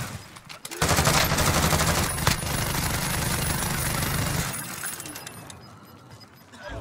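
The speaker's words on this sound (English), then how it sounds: "Ghost is just shooting them through the tent" Sustained burst of gunfire in a first-person shooter game, loud and dense for several seconds with a sharp crack near the middle, then thinning out.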